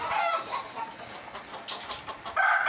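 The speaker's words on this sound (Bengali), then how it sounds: "সবগুলা মুরগি আমার ডিম দেয় এখন বর্তমানে" Laying hens in a coop in Saudi Arabia cluck and squawk close by in a busy, overlapping chatter, with a louder burst near the end.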